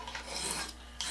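Pocket jackknife blade rasping across an abrasive sharpening stone, a steady close scraping stroke lasting about a second, with a fresh stroke starting near the end.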